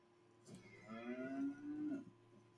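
A cow moos in the Albion Online video game, one long drawn-out low moo rising and holding for about a second and a half, clear and alone over faint background.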